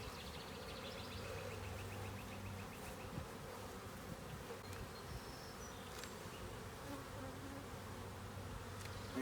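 Honeybees hum steadily around an open hive while a deep box is being added, a dense continuous buzz with individual bees whining past close by, no talking.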